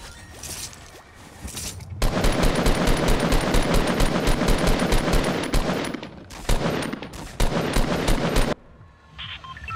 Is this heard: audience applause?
no